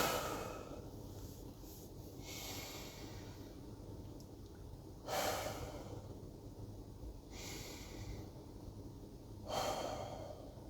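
Slow, deep breathing during a relaxation exercise, with long airy inhales and exhales recurring every few seconds, close and fairly quiet.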